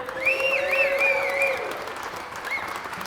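An audience at a red barn performance applauds an opening performer, the clapping joined by a few high, wavering whistles that trail off as the applause thins.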